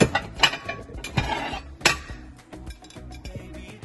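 Large white plates being placed into a kitchen cabinet, with a quick series of sharp ceramic clinks and knocks, louder early then lighter rattles, close and alone.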